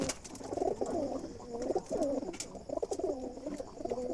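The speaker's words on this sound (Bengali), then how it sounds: "এখানে কালো জালালি কবুতর আছে, যেটা খুব রেয়ার" Black Jalali pigeons give soft, throaty coos in overlapping rolling phrases, close but fairly quiet, with no voices over them.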